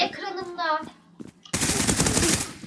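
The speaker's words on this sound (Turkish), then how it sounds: "Boşalttın mı şarjörü üstüme?" Rapid automatic gunfire erupts in the shooter game Zula, a sustained loud burst emptying a magazine after a short stretch of talk and laughter.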